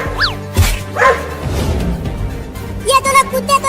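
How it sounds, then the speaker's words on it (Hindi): Two dogs bark and yip in a comedy sketch, with sharp, high, wavering barks that come in bursts over background noise. "ये दोनों कुत्ते तो यहाँ भी आ गए।"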